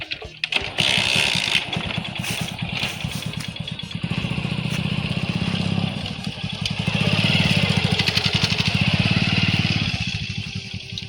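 A motorcycle engine runs near and loud throughout, with a steady rumbling beat that swells around the middle and again toward the end.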